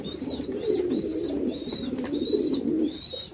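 Black Maltese pigeons coo in a repeated run of soft, rolling calls, about six close together, over a low background murmur.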